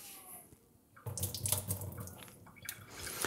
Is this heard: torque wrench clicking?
no